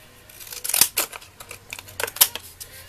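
Deckle edge scissors snipping through paper, a series of close, crisp cuts in an uneven rhythm, each with a short sharp attack, with no voices.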